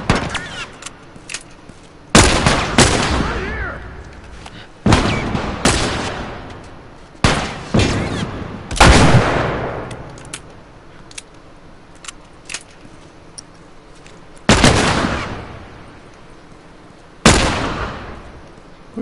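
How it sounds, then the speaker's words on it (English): Repeated gunshots in The Last of Us, loud sharp cracks spaced irregularly with ringing decays, mixed with smaller clicks and thuds between shots. "What are you shooting at?"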